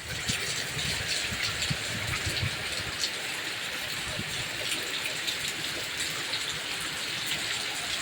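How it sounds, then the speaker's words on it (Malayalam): Heavy fresh rain falls steadily and loudly on surfaces, a dense continuous hiss of downpour with no pauses, some low rumbling patter in the first seconds. "ഇപ്പോൾ പെയ്യുന്ന മഴയാണ്, ഫ്രഷ് മഴ"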